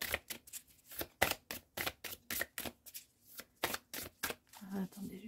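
A deck of oracle cards being shuffled by hand, close up: quick papery riffles and slaps in an uneven rhythm, the stiff cards clumping and resisting sliding, with a voice murmuring briefly near the end.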